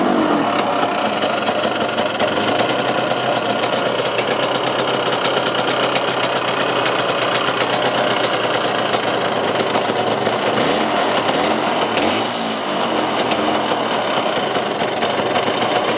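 A 1965 Lambretta scooter's two-stroke engine runs loud and close throughout, with a steady rapid buzzing putter and a brief throttle blip near the end, without any talking.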